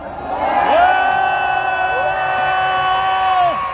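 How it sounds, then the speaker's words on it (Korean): A rally crowd at a Gwanghwamun public gathering roars and cheers on a long, loud shout, with sustained voices and whoops held together. "여러분 우렁찬 함성을 보내주시기 바랍니다"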